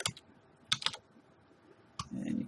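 Brief bursts of computer keyboard typing, close and fairly quiet, a few quick keystroke clusters separated by pauses with no talk.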